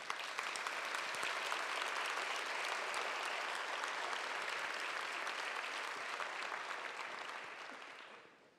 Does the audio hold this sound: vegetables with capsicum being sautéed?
no